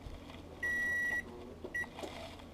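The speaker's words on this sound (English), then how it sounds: "Okay, our timer is going off again." A kitchen timer beeps during cooking of a tomato and kale frittata, one long steady electronic tone and then a shorter second beep, fairly loud and close, with no talk.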